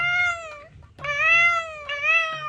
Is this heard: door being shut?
no